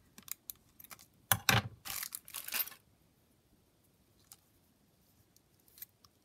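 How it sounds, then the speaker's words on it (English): Paper being trimmed with scissors while making a craft pocket and envelope booklet, heard as a short burst of crisp snips and rustles at close range, with faint handling sounds afterward. "So I'm going to trim that down here."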